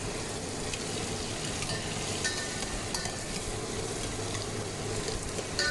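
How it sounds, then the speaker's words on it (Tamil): Ginger and garlic fry in oil in a pan while being stirred, giving a steady, close crackling sizzle with soft scraping throughout and no talk. "இஞ்சி, அதுக்கப்புறம் இந்த பூண்டு, இதெல்லாம் போட்டுட்டு கொஞ்ச நேரம் கிளறி விட்டுக்கிறேன்."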